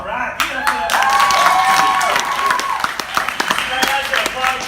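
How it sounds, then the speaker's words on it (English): An audience claps and applauds for an improv comedy class of performers, a dense, steady patter of hands mixed with crowd voices and chatter throughout. "guys are applauding and haven't even done anything yet"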